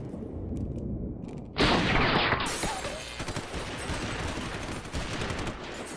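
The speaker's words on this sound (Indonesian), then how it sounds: "Setelah tembak-tembakan tidak jelas terjadi" Gunfire in a horror film, a sudden loud burst of rapid shots that then trails into scattered, echoing bangs and clatter over a dark, rumbling background.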